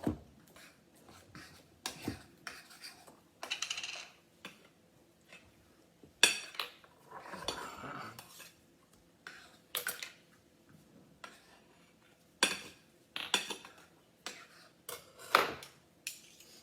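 Kids mix ingredients in a bowl, and the metal utensils make a series of irregular, close clinks and scrapes against it, separated by quiet pauses.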